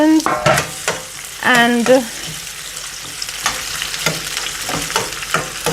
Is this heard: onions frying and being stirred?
yes